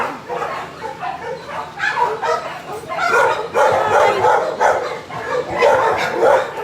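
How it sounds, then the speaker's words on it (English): Many dogs barking, yipping and whimpering along endless rows of dogs, a busy, overlapping chorus that stays close and loud throughout, with voices faintly mixed in. "there are dogs everywhere"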